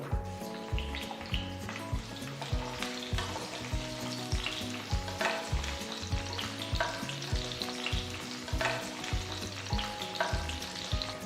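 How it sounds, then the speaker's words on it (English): Ivy gourd pieces frying in about three tablespoons of oil in a pan, a steady close sizzle broken by repeated stirring scrapes and clacks, with no voices. "First I'm going to fry the Ivy Gourd."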